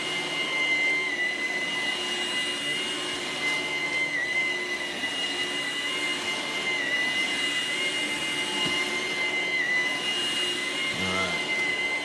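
A Ryobi cordless stick vacuum with a 2Ah battery runs steadily at close range, a loud continuous whine with a high tonal hum that holds for the whole stretch, no voices over it.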